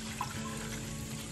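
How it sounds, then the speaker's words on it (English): Warm leftover meat-boiling water pours into a cooking pot for Cameroonian achu and yellow soup, a quiet steady trickle at close range with a faint hum behind it. "I'm just gonna pour my water."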